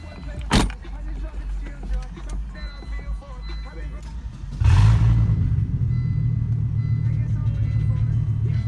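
Loud straight-piped open-header engine on a Volvo V70 XC wagon starts up around the midpoint, settling into a heavy, steady rumbling idle held close by; quieter background noise and a brief thump come before it.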